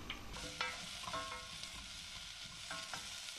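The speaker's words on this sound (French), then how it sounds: "Dans une casserole, on fait fondre la graisse de canard, puis on ajoute les topinambours." Jerusalem artichokes fry in melted duck fat in a saucepan, giving a steady close sizzle with a few clatters from stirring, and no voices over it.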